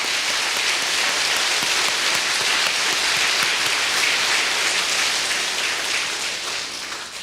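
Sustained, loud applause from a large audience at a Korean peace association gathering, dense clapping rolling continuously with a slight fade at the end.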